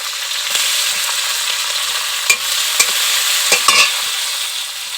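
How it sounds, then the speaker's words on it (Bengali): Chopped onion and tomato fry in a pan with a steady, close sizzle, punctuated by several sharp scrapes and taps from the stirring utensil. "এখন পেঁয়াজ কুচি দিয়ে দেব, টমেটো কুচি দিয়ে দেবো"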